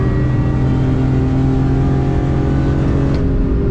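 BMW M3 CSL on the Nürburgring, its engine droning loud and steady from inside the car as it pulls hard, a sustained high-revving roar with a brief shift near the end.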